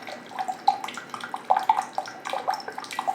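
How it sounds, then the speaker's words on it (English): Hot water pours from an Aquibear reverse osmosis water dispenser, a close, steady trickling splash with small irregular drips and gurgles. "Some hot water right there."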